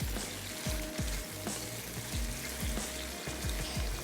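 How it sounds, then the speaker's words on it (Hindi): Tinda and onions cooking over high heat in a non-stick pan, a continuous close sizzle and hiss broken by soft low thumps of stirring. "ये टिंडे हैं जिसमें हमने ऐड की प्याज, टिंडे शामिल किए हैं और हम इसको पका रहे हैं"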